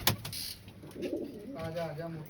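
Pigeons coo softly nearby, a few low, throaty rolling calls after a short sharp knock at the start.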